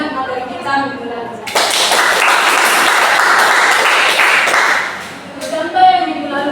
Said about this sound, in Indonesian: berikan tepuk tangan untuk temannya yang masih mengingat materi kita minggu lalu